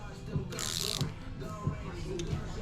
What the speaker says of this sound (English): not a wrench, a ratchet